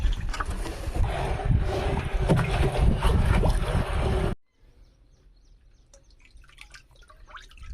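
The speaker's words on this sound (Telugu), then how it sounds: "బాగా కలుపుతున్నాం మనం కర్రతో సవ్య దిశలో కలుపుతున్నాం" Water and soil slosh and churn loudly as a stick stirs them clockwise, with rough, uneven swishing that stops abruptly, leaving near silence with faint drips.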